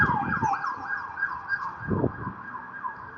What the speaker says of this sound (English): Let this police car pass